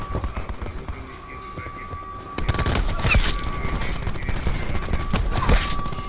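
Shotgun fire in a first-person shooter video game, a quieter stretch of game sound giving way to a loud burst of rapid gunfire blasts that keeps going, with a steady tone running underneath.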